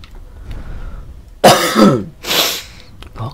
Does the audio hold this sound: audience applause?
no